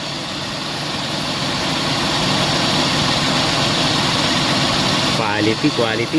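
A Mazda E2000 van engine idles after a carburetor conversion, with a loud, steady, even rumble throughout and a person speaking briefly near the end.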